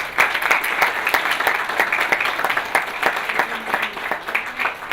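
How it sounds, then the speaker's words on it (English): An audience claps steadily and fairly loudly throughout, a dense, even round of applause with no talking over it. "Let's give these brilliant students a round of applause."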